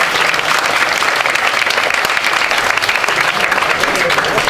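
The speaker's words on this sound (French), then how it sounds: "Merci, n'applaudissez pas déjà." An audience at a French national debating championship final applauds loudly and steadily, a dense wash of clapping from many hands filling the room with no break.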